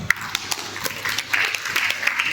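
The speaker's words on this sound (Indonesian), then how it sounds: "Tepuk tangan buat beliau." Scattered clapping rises from the audience at a PAN party regional working meeting in Sidoarjo, honoring the MPP chairman; individual claps stand out sharply over a thin, moderately loud crowd patter.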